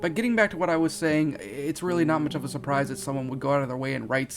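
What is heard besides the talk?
No everyday noise stands out behind the speech.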